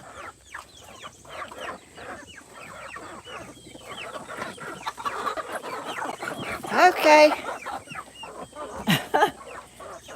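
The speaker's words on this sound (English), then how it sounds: "I just listening to that chicken right here. He's quarreling is what I call it." A backyard chicken clucking in a quarrelsome, agitated stream of short repeated calls, close and fairly loud, with rising squawks near the end, a brief spoken word, and other farm sounds in the background.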